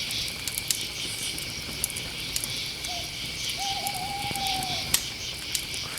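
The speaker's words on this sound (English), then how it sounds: "We're sitting here listening to electronic crickets and campfire" Steady electronic recorded cricket chirping fills the background, with occasional soft campfire crackles and pops and a brief low hooting tone in the middle.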